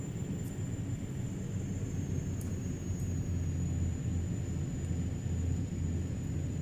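A Carenado SAAB 340 turboprop in level flight in the Prepar3D simulator, a steady, continuous low engine and propeller drone with a faint high whine running throughout, no voices.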